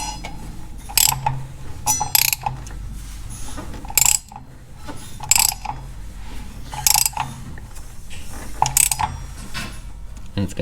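A hand tool turns a 5.9L Magnum V8 engine over toward a piston stop, giving repeated sharp ratcheting clicks in short irregular bursts, close and clear over a low background hum.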